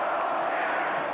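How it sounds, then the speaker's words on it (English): A large basketball arena crowd chants in unison against Seattle, a dense, steady roar of many voices filling the space throughout. "The crowd is chanting to go home, Seattle"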